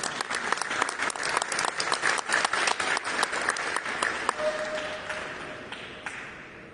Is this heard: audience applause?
yes